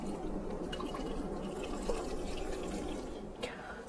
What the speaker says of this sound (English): I will be adding more water because it's not yet as soupy as I need it to be